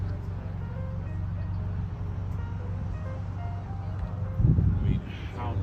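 A custom open-top touring vehicle rolls along with a low, steady engine rumble and road noise, with a brief louder thump near the end.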